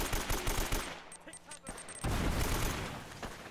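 AK-47 gunfire in the video game Uncharted, bursts of rapid automatic shots with a short pause in the middle, then a dense sustained rattle, loud and close with a voice talking over it.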